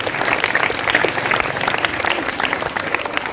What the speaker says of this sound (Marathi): आपण पूजा शिंदेचं पुन्हा एकदा टाळ्या वाजवून तिला आपण अभिनंदन करणार आहोत.